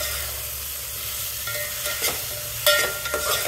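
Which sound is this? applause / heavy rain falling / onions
onions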